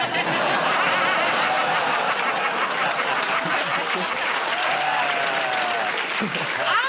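An audience claps at a comedy show, a dense steady burst of applause mixed with chuckles and laughter, with a voice speaking over it.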